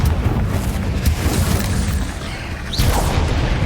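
A Confringo explosion spell booming in Hogwarts Legacy, a dense, loud rumbling blast that sustains and rolls on, followed by a second burst with a rising whoosh near the end.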